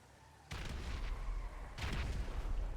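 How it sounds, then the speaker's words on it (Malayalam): Gunfire rings out in a multiplayer shooter tournament match, with two bursts of rapid shots at moderate distance over a low game background, no voices. "ഫൈറ്റ് ആയിട്ടില്ല, പക്ഷെ വെറുതെ വെടിവെക്കുന്നുണ്ട്."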